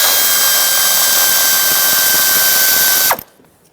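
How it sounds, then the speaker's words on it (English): A ratchet spins a 10mm bolt off the ignition coil of a 2010-2017 Chevrolet Equinox in a continuous close, buzzing clicking run that stops abruptly near the end, leaving near silence. "There's a 10mm bolt here to remove the ignition coil."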